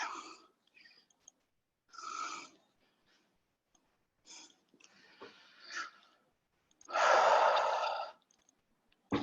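Several people exhale and inhale audibly during a seated shoulder-blade squeeze exercise in a workout class, with breathy sighs and puffs spaced every couple of seconds and a longer, louder exhale near the end.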